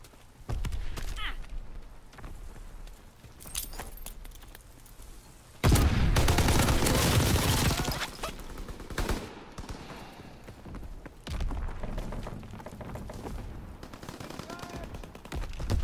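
Gunfire in a WW2 multiplayer shooter with paratroopers, bursts of automatic and rifle shots crackling in clusters, with a loud sustained volley midway, mixed with game noise and occasional talk.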